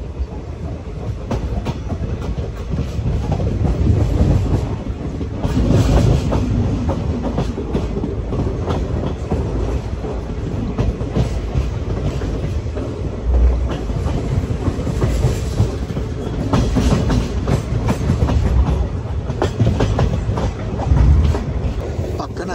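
Salsar Express on the Delhi to Jodhpur line near Churu junction rolls steadily on its rails, a continuous close rumble with rhythmic clickety-clack wheel beats and carriage rattles throughout, no talk.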